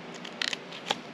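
Scissors snip through card paper in a short burst of crisp cuts followed by one more cut, close and quiet with no talking.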